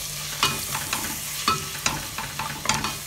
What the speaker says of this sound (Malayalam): ഇത് നമുക്ക് നന്നായിട്ടൊന്നും കൂടെ ഒന്ന് വഴറ്റിയെടുക്കാം.